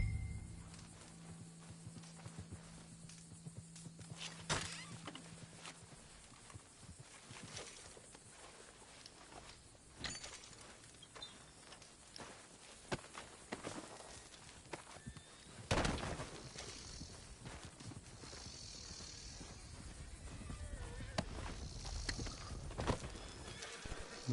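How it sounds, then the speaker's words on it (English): Horses in the Red Dead Redemption 2 video game near a camp, with hooves clip-clopping at varied distances, occasional whinnies and shuffling footsteps, and sharp louder impacts breaking through a quiet outdoor background. "Look at all damn horses."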